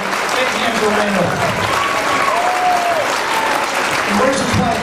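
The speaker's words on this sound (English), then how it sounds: "Big hand for Randall." Loud, sustained audience applause fills a hall at the California Republican Convention, a Tea Party Caucus gathering, dense clapping throughout with faint voices and cheers mixed in.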